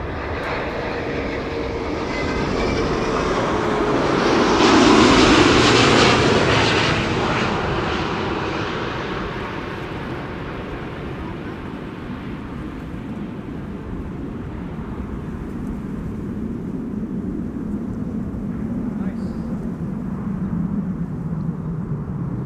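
A Delta aircraft lands at Amsterdam Schiphol, its jet roar swelling loud to a peak and then fading into a long rumbling, swirling wash of wake turbulence that lingers alone.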